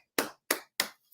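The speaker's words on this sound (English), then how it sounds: "What about clapping? You want to clap?" A baby claps hands three times, sharp close slaps evenly spaced apart in otherwise quiet surroundings.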